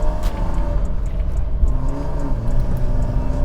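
A BMW E36 320i with its six-cylinder engine driving, a loud steady engine drone and road rumble heard from inside the car, with a faint rise in revs and no talk.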